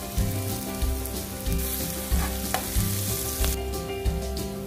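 Chopped onion and garlic fry in hot oil in a pan, giving a loud, steady sizzle with stirring bumps and scrapes throughout. No voices.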